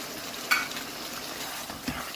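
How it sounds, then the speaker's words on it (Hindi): Chicken being stir-fried with whole cumin and ground dry coriander gives a steady close sizzle, broken by two sharper spoon knocks against the pan. "मिक्स करेंगे और चिकन को अच्छे से भून लेंगे।"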